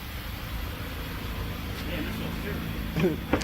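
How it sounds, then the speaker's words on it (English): Recalled car engine idling roughly with a possible misfire and overheating, a low uneven rumbling hum near the tailpipe, with a voice briefly speaking near the end. "It's got a rough idle."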